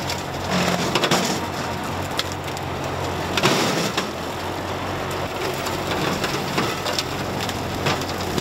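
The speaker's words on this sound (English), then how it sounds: "For a moment there, I thought it was a giant popcorn popper instead of a mower." A RhinoAg TS10 flex wing mower chews through large brush, giving a dense, continuous crushing roar with sharp popping and splintering cracks scattered throughout, close and loud.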